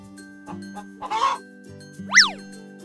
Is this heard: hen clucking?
yes